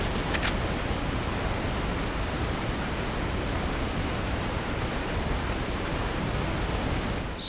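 Steady rushing water from a running channel or fall in the Resident Evil 4 village, a dense even wash holding constant for several seconds with no voices.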